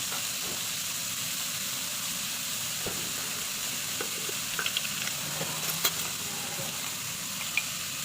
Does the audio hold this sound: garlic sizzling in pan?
yes